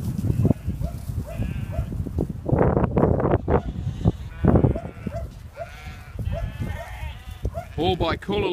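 Merino store lambs, October-dropped and clean-skinned, bleat repeatedly at close range, several overlapping calls rising and falling over a low rumble of wind and farm background.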